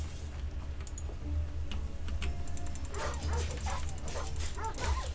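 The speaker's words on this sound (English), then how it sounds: "Where are these dogs, huh?" Dogs barking in Assassin's Creed Odyssey, several yips and barks scattered over a steady game ambience with low rumble and ticking, fairly distant and mixed into the background.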